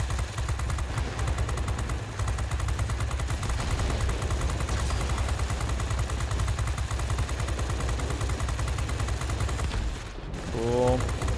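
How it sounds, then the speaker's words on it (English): Aircraft cannons and machine guns on a He 100 D-1 fighter fire in World of Warplanes: a continuous, rapid rattling burst of gunfire holds steady for about ten seconds, then briefly drops off before resuming. "Unfortunately, I'm actually going to overheat my freaking cannons. My cannons, my machine guns"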